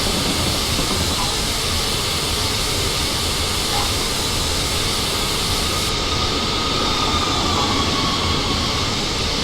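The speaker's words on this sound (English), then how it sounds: "Because it's a British Rail mainline steam engine." Flying Scotsman, a British Rail mainline steam engine, running in Train Simulator on the East Coast Main Line between London and Peterborough, with a loud, continuous rumble and roar of the moving train and steady rail noise throughout.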